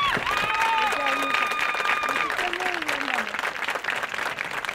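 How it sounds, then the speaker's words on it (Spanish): An audience applauds at a charreada escaramuza event, steady dense clapping filling the whole stretch while a voice talks over it. "creo que se merece un gran aplauso por su esfuerzo"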